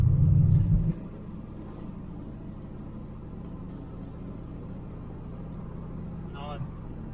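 A 1979 Pontiac Firebird Trans Am with a 6.6 big block engine driving, a loud low burst at the start dropping to a steady in-cabin rumble with faint intermittent higher sounds near the end.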